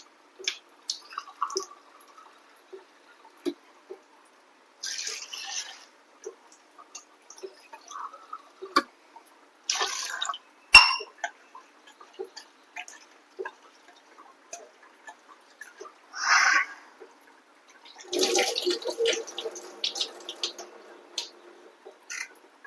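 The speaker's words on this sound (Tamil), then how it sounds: "அப்புறம் நல்ல வாட்டர்ல வாஷ் பண்ணுவேன்." Vegetables rinsed under tap water in a home kitchen: intermittent splashing bursts and scattered drips separated by quiet gaps, with a longer gush of water near the end.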